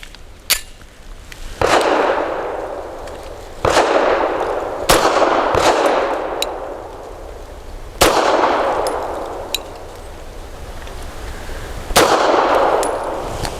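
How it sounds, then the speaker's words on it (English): Loud gunshots strike large steel targets at close range on a shooting range, each crack followed by a bright metallic clang that rings and fades. About six irregular shots are spaced a second or two apart. "the folks in the bay next to us like shooting at big steel very close up"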